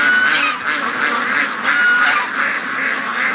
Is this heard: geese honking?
yes